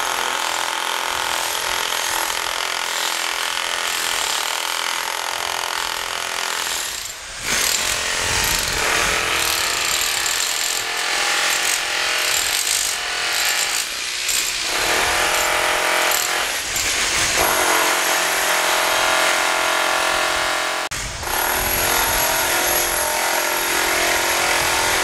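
Heavy construction machinery runs at night during asphalt hot-mix paving of the Rangkasbitung bypass bridge deck, a loud continuous engine roar with rattling, jackhammer-like mechanical noise that briefly dips a few times.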